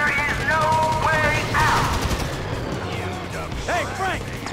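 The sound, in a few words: gunfire in video game Grand Theft Auto V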